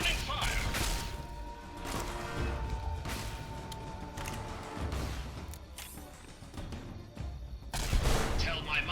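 Gunfire in Fallout: Tale of Two Wastelands, several sharp shots scattered through a steady game soundtrack, with a heavier burst near the end and a voice speaking at times.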